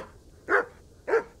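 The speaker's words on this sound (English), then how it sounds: "Oh, it's a dog." Dog barking in the video game Kingdom Come: Deliverance, two clear, evenly spaced barks, close and fairly loud against a quiet background.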